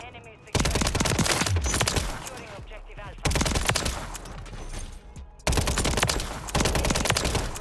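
Rapid bursts of WSP 9 submachine gun fire in the shooter game Modern Warfare 3, three loud sustained volleys separated by short pauses, with game sounds underneath.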